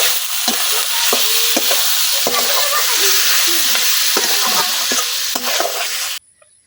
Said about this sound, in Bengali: এখন এই পেঁয়াজের মধ্যে মাংসগুলো আমি দিয়ে দিলাম।